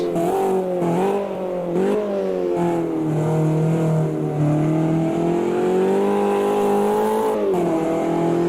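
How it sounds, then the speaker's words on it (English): The four-cylinder engine of a BMW 2002 Turbo in the racing game Automobilista 2 revs steadily, its buzzing note rising and falling with gear changes, loud and close from outside the car with no talking. "external sounds are pretty good. I mean, it's a 4-cylinder engine, so it's not going to be as raw sounding as a straight 6 or a V8"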